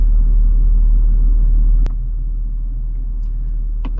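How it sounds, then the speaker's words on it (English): Inside a 2021 BMW X5 xDrive40i passing through an automated car wash, a heavy low rumble drops suddenly after a sharp thump, then continues more quietly with scattered faint clicks and spatters. "The car wash."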